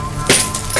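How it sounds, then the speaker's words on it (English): Glass breaking in a zombie survival game, a short bright crash with scattered tinkling debris standing out briefly against a steady background hum. "for the 5th day in a row, we heard broken glass."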